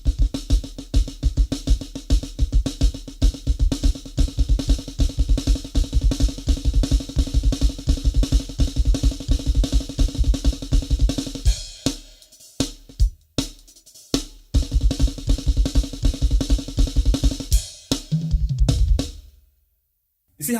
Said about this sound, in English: you can decide to place your kick together with every right hand note.